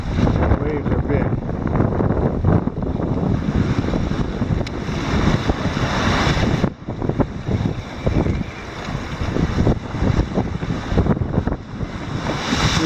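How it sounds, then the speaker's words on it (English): Loud, blustery wind roaring over ocean waves around a small sailboat, with surf rushing and sloshing continuously and the noise swelling and dipping, close to the microphone. "Some of these waves are big."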